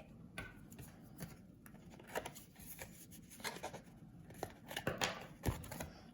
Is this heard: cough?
no